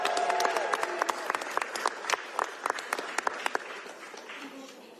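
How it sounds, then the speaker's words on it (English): A political event audience claps for a state representative, the applause loud at first with individual sharp claps standing out, then thinning and fading over a few seconds. "Give a round of applause for Representative Fitzgibbon"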